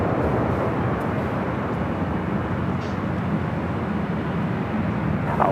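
A China Eastern heavy jet takes off from runway 24 left at LAX, a steady distant roar of engines holding level throughout, with no talking.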